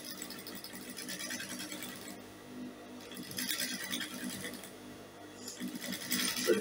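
A sewing machine runs in quick bursts of rapid mechanical ticking as it stitches bias binding between dress pieces. The sound is faint and close, with short pauses between runs.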